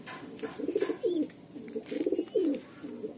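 A Madrasi pigeon coos at close range in soft repeated phrases, several rolling bursts separated by brief pauses, with no talking.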